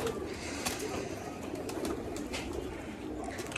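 Soft, continuous cooing from a Satchila pigeon kept in a racing pigeon loft, low and close, with a few sharper clicks and rustles scattered through and no voices.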